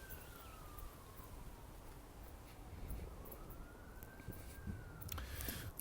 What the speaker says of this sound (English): You see, when the sirens go,